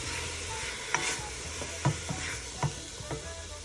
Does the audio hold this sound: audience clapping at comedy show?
no